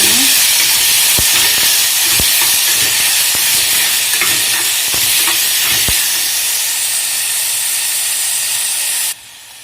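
Coriander and mint leaves fry in a hot pan, giving a loud, constant hiss and sizzle with occasional soft scrapes of stirring, until the sound cuts off abruptly near the end.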